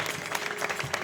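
A short, moderately loud burst of clapping from an audience at a temple gathering, dense and steady for about a second.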